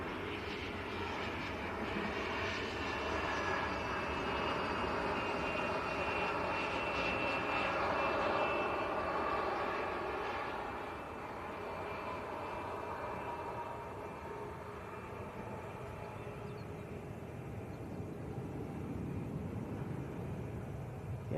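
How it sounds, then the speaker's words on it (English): A business jet on the runway at Manchester Airport gives a sustained, loud turbine roar and rumble that swells and then slowly eases, heard from the spotting position with no talk over it. "I think this is the closest we've come to a BizJet on this runway so far, Tom."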